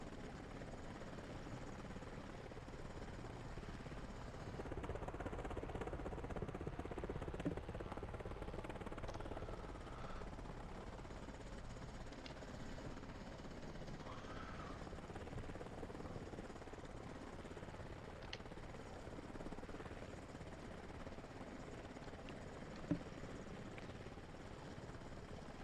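A helicopter in the military video game Arma Reforger flies steadily, a continuous low rotor thrum and engine drone heard from inside or close by, with faint clicks and one brief thump over the long, even rumble.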